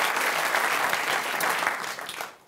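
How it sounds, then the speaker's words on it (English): Audience at a live tech show event applauds steadily, a dense wash of clapping throughout that tapers off toward the end. "So give them a round of applause."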